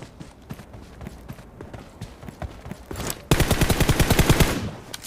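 M16 rifle fire in a shooting video game, starting as distant scattered shots, then breaking into a louder, rapid burst of automatic fire near the end.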